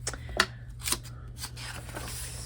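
Scissors snip through paper for a paper bag junk journal: several sharp, close cuts in the first half, then a softer rustling drag of paper.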